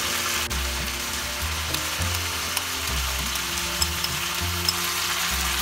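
Chettinad masala added to a pan of frying chicken curry, a steady loud sizzle with crackling and faint scraping of a spoon stirring, continuous throughout.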